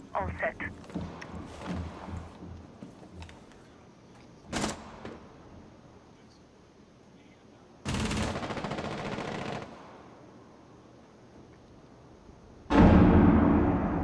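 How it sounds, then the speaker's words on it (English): Gunfire in Rainbow Six Siege on the Kanal map: a clatter of automatic weapon bursts early on, then a sharp shot and two loud sustained rattling bursts later, with game ambience and voices between. "Someone shooting in the stairs."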